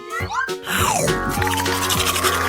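Someone brushes teeth with a giant toothbrush, producing rapid scrubbing and foamy rasping strokes, near and fairly loud, with a short bit of voice at the start.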